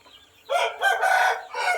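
A large rooster crows loudly and close by, one long drawn-out call in several bursts, with nothing else around it.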